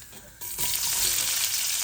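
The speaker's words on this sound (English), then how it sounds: "Starting with a teaspoon of cumin seeds, and we're gonna let them sizzle." Cumin seeds dropped into hot oil, hitting with a sudden bright sizzle that jumps up loud and keeps frying steadily and close, with no talking.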